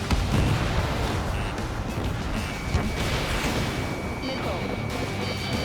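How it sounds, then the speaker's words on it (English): Rumbling missile launch and heavy explosions in the air-combat game Ace Combat 7: Skies Unknown, a dense, continuous roar of blasts and engine noise that stays loud throughout, with no speech over it. "Spare 15, launching missile."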